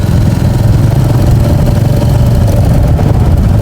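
A Royal Enfield Meteor 350 motorcycle engine idles loudly and close by, a steady low chugging rumble that holds even throughout.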